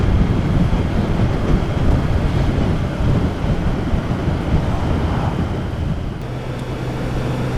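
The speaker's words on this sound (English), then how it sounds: "that is a bit blustery, isn't it?" Gusty wind blows outdoors across the microphone as a loud, steady roar with low rumbling buffets, and no voices are heard.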